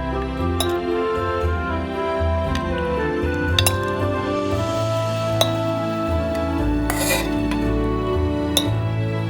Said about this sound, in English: You can put them into a jar.